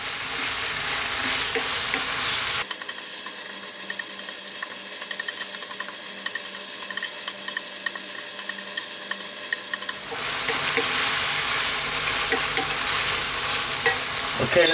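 Ground beef and vegetables fry in a pan over lively heat, with a steady loud sizzle and continuous stirring scrapes throughout, the hiss thinning briefly in the middle before swelling again.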